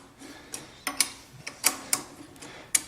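A wrench works loose the knife bolts on a planer, giving a series of sharp metallic clicks and ticks at an uneven rhythm, close by against a quiet background.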